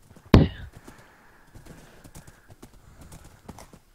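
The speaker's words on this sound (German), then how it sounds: "Ja, und da sind unsere Pferde." Horse hooves clip-clopping in the Minecraft video game, one loud sharp hoof clop followed by faint scattered steps and soft game noise.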